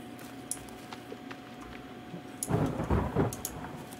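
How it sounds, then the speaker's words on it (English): Thunder rumbles in from a quiet start in The Forest, a low rolling crash swelling over steady rain patter with sharp crackles near the end. "Oh, thunder."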